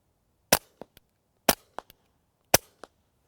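Three suppressed .22 rimfire shots through a Rugged Suppressors Oculus 22 modular silencer, each a sharp, dry snap like a staple gun followed by quick mechanical clicks, evenly spaced about a second apart against near silence.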